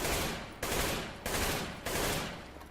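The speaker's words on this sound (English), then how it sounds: "if I fire 3 shots without moving my mouse" An AK-47 in Counter-Strike: Global Offensive fires three loud gunshots in even succession, each a sharp blast with a short decaying tail, roughly half a second apart.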